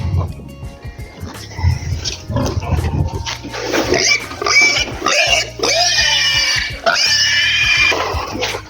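Piglets grunting and squealing up close, with loud broadband squeals and snorts over a low rumbling background, and some voices mixed in.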